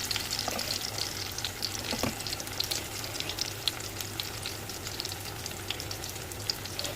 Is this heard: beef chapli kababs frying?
yes